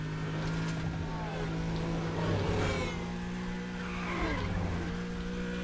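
Car in the Need for Speed Undercover racing game braking hard, with a steady engine drone and a sustained tire skid sweeping through, loud and continuous throughout.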